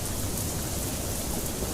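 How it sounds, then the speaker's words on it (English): Heavy rain sweeps across a mountainside in a dense, unbroken hiss, with a low rumbling undertone that suggests thunder. "Heavy rain swept through the mountain"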